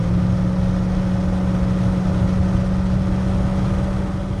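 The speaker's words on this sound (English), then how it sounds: "Has a good exhaust note to it." A 1987 Chevrolet C10 Silverado with its original TBI 350 V8 and a Flowmaster single-in, dual-out muffler drones in a steady, even exhaust note, heard close and constant while driving.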